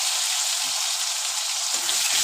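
Potatoes frying in oil with a nigella seed tempering produce a constant bright sizzle close by, with a few soft low knocks from the pan near the end.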